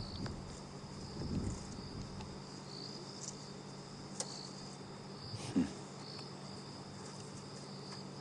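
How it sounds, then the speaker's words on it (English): Faint, steady insect chirring of crickets in a quiet night setting on a safari drive, a continuous high buzz with a few soft rustles and bumps nearby. "you might just be able to hear very subtle sounds of crickets"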